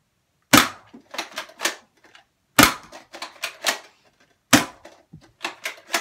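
An Adventure Force Aeon Pro foam dart blaster fires a full magazine of darts: three sharp, loud bursts, each followed by several quicker clacking shots, spaced about two seconds apart with no talking.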